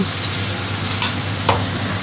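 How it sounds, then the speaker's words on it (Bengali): Onions frying with a splash of water in a pan while being stirred, a steady close sizzle broken by a few soft spoon scrapes against the metal. "সামান্য পরিমাণ পানি দিয়ে ভালো করে নেড়ে চেড়ে পেঁয়াজটা আমি কষিয়ে নিব।"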